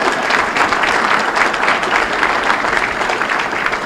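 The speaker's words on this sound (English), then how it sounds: "It's okay, you can clap." An audience claps at a 2013 athletic hall of fame ceremony, a loud, continuous round of applause filling the hall with no speech over it.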